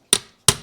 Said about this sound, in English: And we're just giving it a tap.